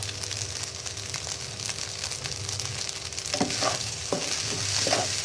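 Shrimp fried rice gets stir-fried in a hot pan, a steady sizzle running throughout with scraping spatula strokes that grow more frequent toward the end, close up and with no voices.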